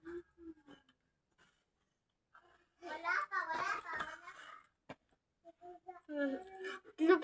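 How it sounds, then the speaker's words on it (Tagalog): Two small children chatter and babble nearby indoors, with short bursts of high-pitched talk separated by quiet gaps, fairly faint in the background. "Pasensya na maingay konti kasi chismosa yung dalawang maliit na bata."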